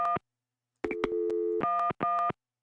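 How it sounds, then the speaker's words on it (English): Keypad tones sound as a telephone number is dialed in Gabriel Knight: Sins of the Fathers, a short beep, then a pause and a run of clean electronic tones, some long and some clipped, loud against silence. "How come the numbers beep if the phone is off?"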